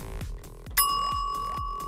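A bell rung as a vote during a game show gives one bright ding that rings on over a steady thumping backing beat.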